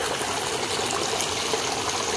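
A small stream flows in a continuous, broadband rush of water, steady and fairly close, with no voices over it.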